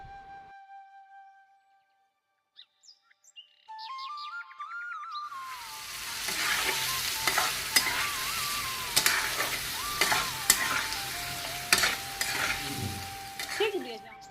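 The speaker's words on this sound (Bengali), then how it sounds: "চলো আস্তে আস্তে আমি পটলগুলো এখন ভেজে নিই" Pointed gourd (potol) slices sizzle steadily in a hot pan of oil, with occasional stirring scrapes over a continuous frying hiss after a quiet start.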